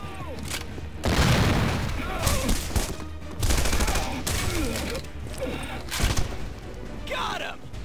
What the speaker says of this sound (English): We're taking heavy fire down here!